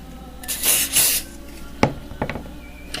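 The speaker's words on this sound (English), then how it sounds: "So I'm just going to spray all the sides of this," Two hissing bursts from an aerosol can of glitter varnish sprayed onto a Christmas ornament, followed by a few sharp clicks and light handling noises.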